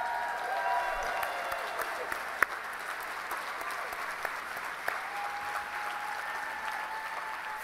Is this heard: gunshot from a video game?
no